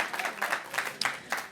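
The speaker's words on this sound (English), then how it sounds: "Clap if you wore Dr. Martens." Audience at a Boston Fashion Week show claps in short, uneven bursts, a brief scattered round of applause from a modest crowd rather than a sustained ovation.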